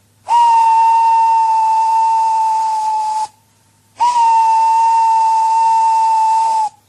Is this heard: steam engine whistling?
yes